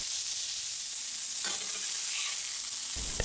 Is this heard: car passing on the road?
no